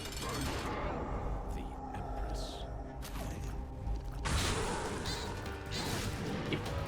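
Cannon fire from a video game run, a series of sharp crashing blasts and mechanical clatter layered over busy game sound effects and music, loud and dense throughout.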